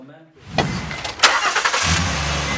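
An off-road vehicle's engine cranks and catches after a short silence, revving briefly before settling into a steady idle, with people talking nearby over it.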